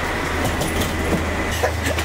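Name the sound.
small shuttle bus driving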